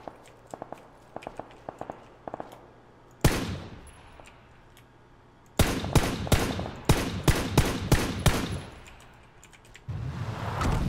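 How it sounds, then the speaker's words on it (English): Bursts of automatic gunfire in PUBG, a sharp burst followed by a rapid string of loud cracks, with soft footsteps tapping before it and another burst at the end. "I don't know who's shooting me"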